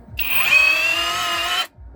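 A DeWalt 36V 6Ah cordless rotary hammer drill in drilling mode, on a 4Ah battery, whirs loud and close for about one and a half seconds, then stops abruptly.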